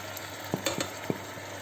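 Pork curry frying in a pan, a steady soft sizzle with a few sharp scrapes and knocks as it is stirred, fairly close and alone.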